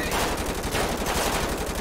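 Dense, continuous automatic gunfire from a GTA 5 sheriff patrol shootout, loud and close with overlapping bursts filling the whole moment and no talk over it.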